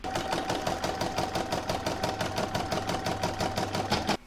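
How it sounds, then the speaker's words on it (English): An embroidery machine stitches the outline of a coaster through cutaway stabiliser, a steady fast mechanical chatter with regular rapid needle beats and a faint tonal whine, running continuously and close before stopping abruptly. "I'm now going to pop it into my machine and stitch round number 1, which is the outline"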